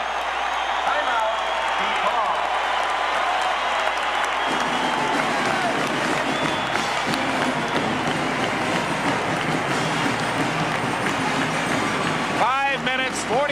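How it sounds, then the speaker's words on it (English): Packed college basketball arena crowd roaring during a 1982 DePaul versus Marquette game, a loud sustained wall of cheering and noise throughout, with a broadcast announcer talking over it. "Listen to this crowd."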